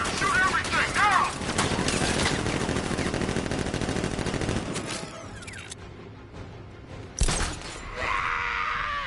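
Intense gunfire in the video game Batman: Arkham Knight, rapid automatic bursts with shattering and mechanical clatter, loud and close, easing briefly before a sharp final blast; a voice speaks over it.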